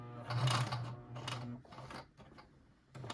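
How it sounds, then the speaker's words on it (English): A sewing machine stitches up an ice cream pouch, its fast motor hum running steadily with brief pauses and a few short bursts of stitching, close and moderately loud. "I'm going to go ahead up, meet up to that line, and I'm not going to back stitch so I can pull it through."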